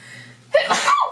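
A single sharp sneeze bursts out close by in a quiet indoor room, brief and loud against faint background hum, with no talk over it.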